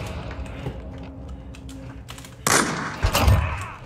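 A 360 no-scope flick trick shot in a video game fires with sharp, loud gunshot bursts near the end, after a stretch of soft keyboard clicking with no talk.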